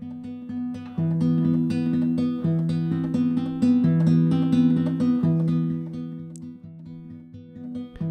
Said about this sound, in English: this is a classical guitar lead thing